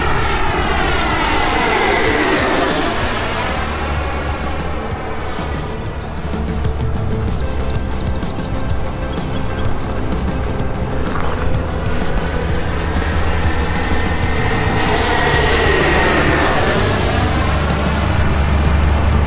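An FMS BAE Hawk 80mm EDF model jet makes full-speed passes, its loud, high whine rising and falling with Doppler sweeps as it roars past twice, with a steady rushing drone in between.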